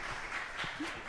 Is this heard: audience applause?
yes